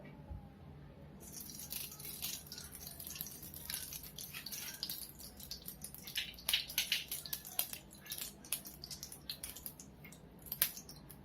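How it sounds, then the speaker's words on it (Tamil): Ghee poured into a heated pan while making pumpkin halwa: faint crackling, dripping and sputtering ticks that grow busier over about ten seconds, heard alone with no voices. "இப்போ பேனை சூடு பண்ணி அதில் நெய்யை ஊற்றிடலாம்."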